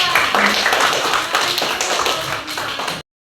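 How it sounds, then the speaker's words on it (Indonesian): A classroom full of students clapping together, dense and loud applause for about three seconds before it cuts off abruptly. "Kasih tepuk tangan untuk kelompok 2."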